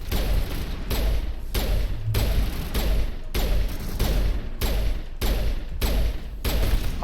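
Shotgun fire in Mass Effect 1 Legendary Edition, a regular series of heavy blasts roughly every 0.6 seconds over a constant low combat rumble, loud and close, with no talking.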